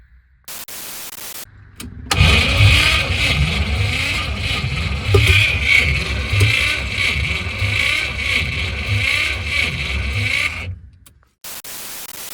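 A Volga car fitted with a V8 engine and a welded exhaust manifold, running loudly and steadily for about nine seconds with a broad rumble and rough noise, then cutting off abruptly; no talking.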